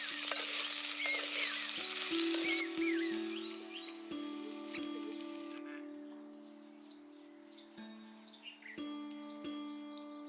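Peas, carrots, beans and capsicum cook in a pan, a bright sizzle that is strong at first and then softens, with birds chirping nearby and a few soft knocks throughout.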